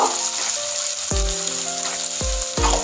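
Salt, turmeric and cumin powder sizzling in hot oil for a cauliflower dish, a steady crackling fry with a few sharp spoon knocks against the pan.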